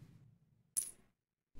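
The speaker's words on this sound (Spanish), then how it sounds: "Oh, creo que aquí hay una moneda." A coin is picked up in the 90s-style horror game Janitor Bleeds: one short, bright metallic clink after a low, quiet hum, then near silence.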